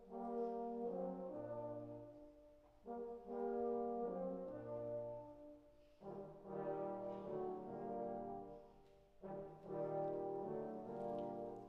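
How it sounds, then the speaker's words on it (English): A section of French horns plays open without mutes, hands in the bell, producing soft, warm sustained chords in several phrases, quite faint overall with gentle swells. "So if it was played without the mute, open, it would sound like this."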